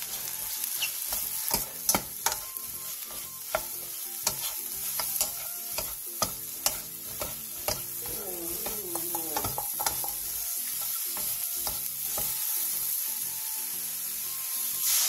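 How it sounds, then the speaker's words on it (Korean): Mushrooms and minced garlic stir-fried in perilla oil in a pan over medium heat, a steady close sizzle under repeated scrapes and taps of a utensil stirring the food. "팬에 들기름 1스푼과 버섯, 다진 마늘 3분의 1스푼을 넣고 버섯의 숨이 반 정도 죽을 때까지 중불에서"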